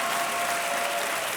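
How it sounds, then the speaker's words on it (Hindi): Loud, dense applause from a large studio audience on the quiz show Kaun Banega Crorepati, steady clapping filling the whole moment with no speech. "ताली बजाइए देवस।"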